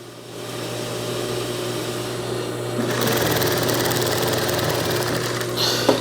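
Sewing machine running steadily as it stitches a zip into a Saudi thobe, a close, even mechanical whir that picks up speed partway through and continues without talk.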